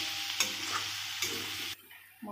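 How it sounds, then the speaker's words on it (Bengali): Spices sizzle in a pan for a simple vegetarian labra, with ground cumin and turmeric being fried and stirred, the spoon scraping in a couple of quick strokes before the sizzle drops away. "মশলাটা ভাজা হচ্ছে"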